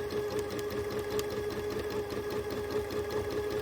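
A sewing machine runs steadily during free motion quilting of feathers and meanders, its needle pulsing in a fast continuous rhythm with a steady motor hum, close and alone.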